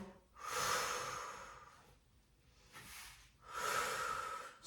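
Heavy, rhythmic breathing comes up close during a Pilates exercise: two loud, drawn-out breaths with a quieter pause between them, and no talking.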